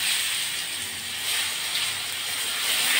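Crushed garlic frying in hot oil for a green amaranth stir-fry, a steady close sizzling hiss that holds evenly throughout.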